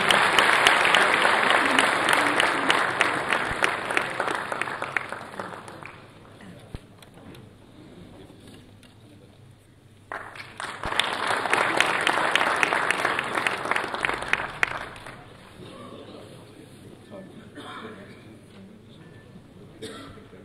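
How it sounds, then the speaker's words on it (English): Audience applause at the inaugural session of an international computing conference comes in two loud waves of dense clapping that fade out, with coughs, throat clearing and a few voices in the quieter gaps. "A big round of applause, please."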